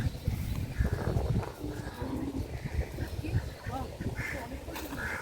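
Ducks and chickens forage in a village taro field, with close quacking and clucking over rustling movement and a few faint voices in the background.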